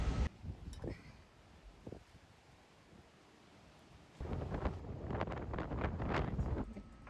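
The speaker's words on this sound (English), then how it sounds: "I have a lot of respect for strong wind" Strong wind at a lagoon blowing across the microphone in heavy, buffeting gusts, calmer in the middle and rising again into loud rumbling bursts.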